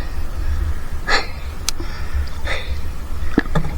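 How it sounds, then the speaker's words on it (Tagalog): A man breathes heavily after exertion, with a few separate deep gasping breaths over a constant rushing background. "Hingal tayo."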